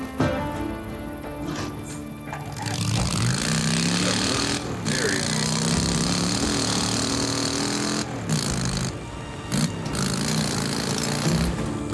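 A repaired engine in the Days Gone video game starts and revs, giving a steady, loud, rough drone that swells and surges over about twelve seconds, with brief cut-outs near the end.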